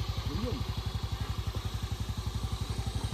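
A motorcycle engine idling on a hill road near a Mirik homestay, a close, steady, fast rhythmic putter of firing pulses throughout, with a brief voice early on.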